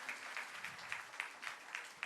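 Audience at a memorial lecture applauding, a fairly quiet, distant patter of many hands with some louder individual claps standing out, continuing evenly without speech.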